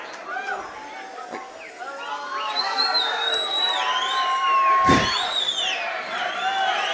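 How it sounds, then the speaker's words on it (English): Crowd at an SSP fight event between Tanner Grant and Julio Rios cheering and shouting, a steady roar with whistles and rising yells, moderately loud and continuous, with a sharp slam or clap midway. "Crowd is hyped up"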